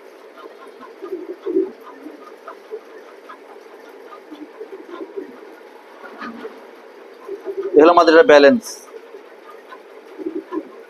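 Pigeons coo softly in low repeated murmurs, while someone talks loudly over them for a moment.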